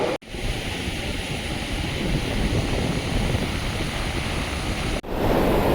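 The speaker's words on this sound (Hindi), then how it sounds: "देखिए आज लहरें बहुत तगड़ी हैं, बहुत ज़ोरदार।" Strong sea waves crash continuously on the beach at Diu, a loud, dense roar of surf mixed with wind buffeting the microphone, steady throughout with a brief break near the end.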